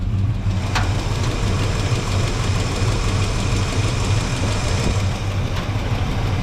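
A car engine idling after an exhaust repair, a loud steady low rumble with a faint knocking pulse running throughout and one brief metallic click near the start.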